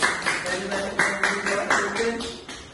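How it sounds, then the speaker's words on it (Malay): A small classroom of pupils claps for a classmate, a few rhythmic, fairly soft rounds of hand claps close by, with voices faintly underneath. "bagi tepukan semua dekat Haris"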